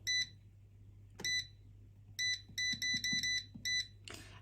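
An air fryer beeps in short electronic tones, a few single beeps then a quick run of repeated beeps, clear and close in a quiet kitchen with a faint low hum beneath.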